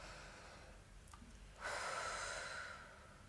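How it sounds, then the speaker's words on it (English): One long, deep breath is drawn in sharply through the nose and held as a loud, rushing airy hiss lasting about a second, set against a quiet room. "Take a deep breath with me."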